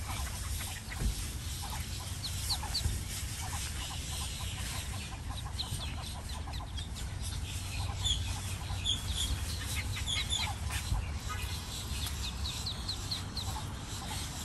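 Twenty baby ducks and their family quack and cluck in a busy outdoor chorus while crossing a street, over a steady low rumble of nearby traffic.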